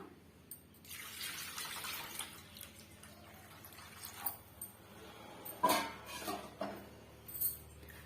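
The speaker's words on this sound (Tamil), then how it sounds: "இப்போ தேவையான அளவுக்கு நம்ம வந்து தண்ணி சேர்த்துக்கலாம்" Water splashes and trickles into a bowl for several seconds while making tomato rasam, with a few louder drips and splashes near the end, close by and no talking.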